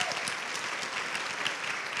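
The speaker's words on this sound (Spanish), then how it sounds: "me gustaría que les den otro aplauso" Crowd applause for women honorees at a Forbes event celebrating women in science and art, dense continuous clapping from a large audience, fairly loud and sustained.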